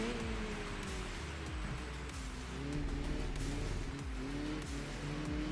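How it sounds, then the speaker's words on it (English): A supercharged race car engine in Enthusia Professional Racing roars steadily at high revs, with rhythmic gear shifts and engine pulses, loud and continuous, without supercharger whine. "The supercharged cars kind of sound more like naturally aspirated cars."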